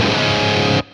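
Heavy distorted electric guitar through preset G of a BT MkV pedal, a dense saturated chord ringing loud and alone for under a second before cutting off.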